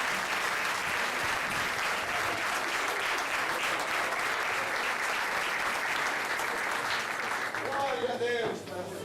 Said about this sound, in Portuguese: eu vos peço uma salva de palmas para o nosso Deus